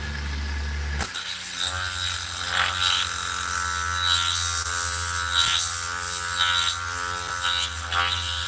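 Power grinder working on a V8 engine cylinder head during a 440 engine teardown, a loud continuous high whine that rises and dips in pitch as it bites into the metal, close and steady.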